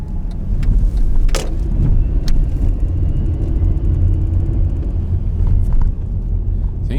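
A car drives through a road tunnel on narrow roads in Japan: a loud, continuous engine and tyre rumble with a steady roar and a few faint clicks and rattles, and no talking.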